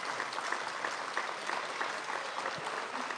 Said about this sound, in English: Big round of applause for our 3 and 4 pre-K friends.